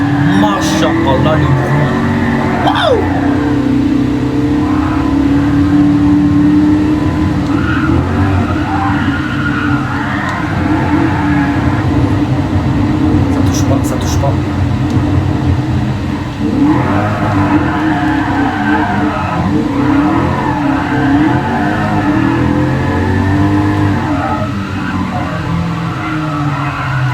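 A car engine revs hard and wavers continuously while drifting around the Nürburgring circuit in Gran Turismo Sport, loud and unbroken, with a voice talking over the engine.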